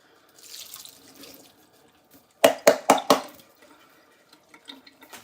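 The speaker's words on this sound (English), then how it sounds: "I'm just going to pour that corn into that strainer right on top of those green beans" Liquid from a can of sweet yellow corn splashes into a strainer over green beans in a kitchen, a short cluster of three or four loud pours and splashes followed by faint drips.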